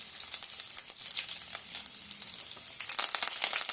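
Garlic and chillies frying in hot oil with roasted cumin, a steady bright sizzle with crackling pops throughout, close and fairly soft, with no talking.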